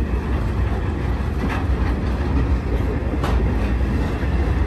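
A BNSF freight train rumbles past steadily and loudly near Rana rail yard in Colton, with a constant low roar and faint rhythmic clatter of wheels on the rails.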